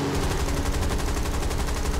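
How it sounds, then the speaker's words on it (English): Aircraft cannon and machine gun firing together in War Thunder on a United States Air Force plane, a dense, loud, continuous rapid-fire burst with no pause and no talk. "We got my Cannon and my MG."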